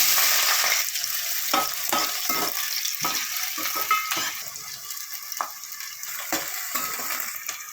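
Onions frying in oil with cumin seeds in a pan for a broad bean and tomato curry, a steady loud sizzle broken by repeated scrapes and stirs of a spoon against the pan, with no voices.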